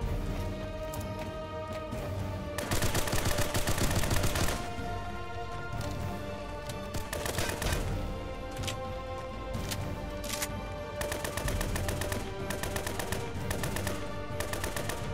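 AK rifle fire in the Roblox game Fallen Survival, with bursts of rapid automatic shots, some long and sustained and others short, cracking loudly and close over a busy game mix.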